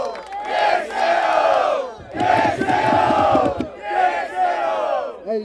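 Crowd at a street rap battle in Barueri, São Paulo, roaring with cheers and chanting shouts in three loud sustained bursts, with rhythmic clapping or stomping in the middle burst.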